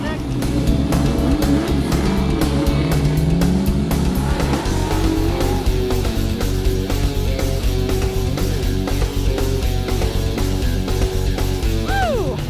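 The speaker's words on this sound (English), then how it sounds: "I heard the cars running, had to do it." Hot rod cars run at a Street Rod Nationals event, loud continuous engine roar and revving throughout, with some passing vehicles and crowd noise close by.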